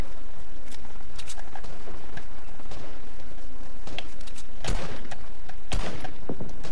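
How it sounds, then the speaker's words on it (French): Assault rifle fire in a battle royale video game plays as loud, sharp bursts of shots, with the heaviest cracks near the end, over constant game background noise. "Alors que là j'ai un beau fusil d'assaut, donc je peux tuer ce mec là qui vient d'atterrir"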